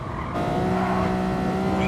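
In Gran Turismo Sport at Dragon Trail Seaside, a race car slams hard over a curb through a chicane, a loud engine drone joined by a sudden squealing skid and rumbling tire judder.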